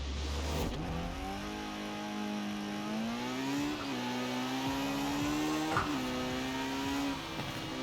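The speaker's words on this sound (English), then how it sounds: "just such a peppy motor once it actually gets going." A 1960 Porsche 718 RS 60 engine in Forza Horizon 4 revs up steadily, its pitch climbing through gear changes with brief dips, loud and continuous with no talking over it.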